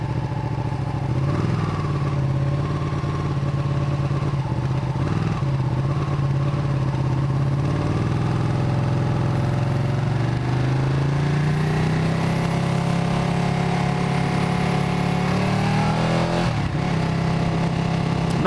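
A 2016 Ducati 959 Panigale engine drones loudly and steadily while riding, its pitch climbing as the bike accelerates through the gears, heard up close.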